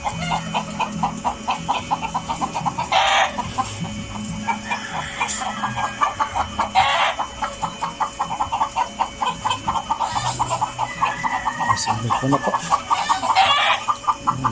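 Chickens cluck continuously nearby while a rooster crows several times, with a brief spoken phrase near the start and a water pump running.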